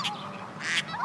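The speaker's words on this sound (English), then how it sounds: "Where did that duck come from?" A single duck gives a short, nasal quack, moderately faint, over a soft background, with other birds around.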